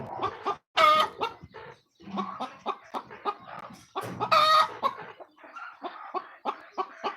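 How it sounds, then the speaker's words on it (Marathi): Chickens cluck steadily on a poultry farm while a rooster crows loudly twice, once near the start and again midway, with the clucking and scratching continuing close by in between. "बघा त्या कोंबड्या इकडे तुम्हाला दिसत असतील"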